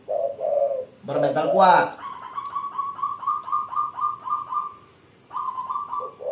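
A spotted dove (tekukur) decoy bird coos in a rhythmic series of soft, repeated notes close by, after a short burst of louder calls, with someone speaking briefly at the start.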